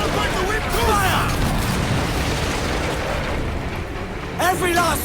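Ship cannons boom in a naval battle in Assassin's Creed Black Flag, a dense, rumbling barrage that roars continuously with game sounds layered on top while a voice calls out orders.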